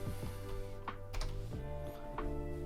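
Quick, uneven keystrokes clack on a computer keyboard, a few taps spaced out over a steady background hum.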